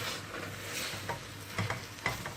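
Bulgur, madimak greens and other ingredients sautéing in a pan, a steady close sizzle with occasional stirring scrapes, no talking.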